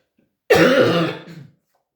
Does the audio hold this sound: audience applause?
no